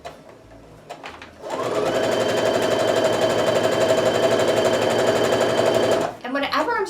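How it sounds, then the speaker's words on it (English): A sewing machine stitches jelly roll fabric strips for strip piecing, a loud rapid steady whir of needle strokes running for several seconds before stopping, with brief handling sounds before and after. "I've got the edge of the fabric even with the edge of my presser foot, and I'm just going to start sewing"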